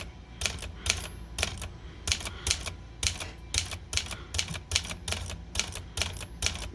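Rapid, uneven clacking of vintage typewriter keys striking paper, tapped lightly, close and crisp, with short pauses between bursts and no voices.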